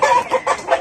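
Chickens clucking inside their coop, close by and fairly loud: a short burst of three or four throaty, rhythmic clucks in quick succession with no one speaking.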